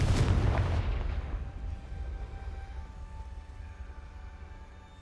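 A Confringo fire spell explosion in the video game Hogwarts Legacy, a loud deep boom up front that decays into a rumbling, crackling tail with faint tonal game sounds lingering behind.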